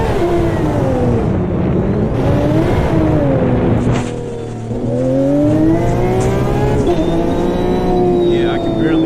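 A race car engine in the Assetto Corsa Competizione video game whines steadily and loud, rising and falling in pitch through gear changes, with a brief dip around a shift, while a person talks over it.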